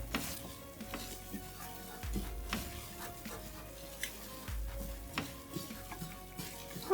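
A flour roux for cheeseburger soup bubbling gently in a pot, soft popping and faint sizzling with occasional stirring and utensil knocks, quiet and close.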